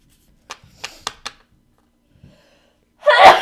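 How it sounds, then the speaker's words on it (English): A single loud close sneeze from one person, preceded by a few short sharp breathy intakes and near silence. "I'm gonna sneeze."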